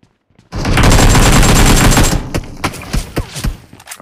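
Rapid gunfire in PUBG bursts out loud and close, a dense volley lasting about a second and a half, then trailing off into several separate sharp shots.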